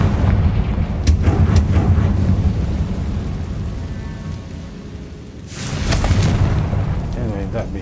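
Confringo blasting spell explosions in the Hogwarts Legacy video game, heavy booming blasts rumbling through a loud, busy combat mix, with a fresh surge of blasts near the end and speech mixed in.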